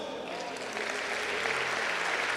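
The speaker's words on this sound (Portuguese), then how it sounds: "Você pode louvar esse Deus bem forte com as palmas?" A church congregation claps together, a soft start swelling into full, sustained applause from many people that stays even and continuous to the end.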